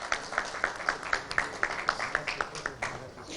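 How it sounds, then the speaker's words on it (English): Rhythmic, evenly spaced clapping rises at an award felicitation ceremony, with about a dozen distinct claps over a soft crowd background. "Round of applause, ladies and gentlemen."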